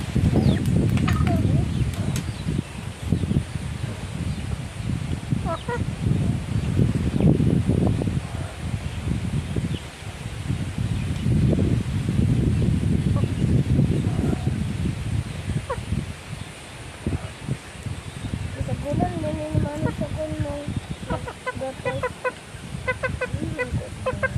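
Chickens clucking and squawking in a busy yard, with rustling and handling noise and a person talking over them at times.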